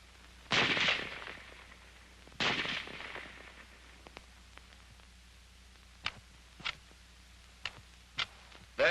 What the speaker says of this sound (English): The rifle will fire each time the trigger is pressed until the magazine is empty.